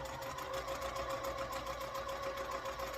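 A sewing machine stitches pieced fabric for a Kentucky chain quilt sampler block, giving a steady, close motor whir with a constant tone and no pauses.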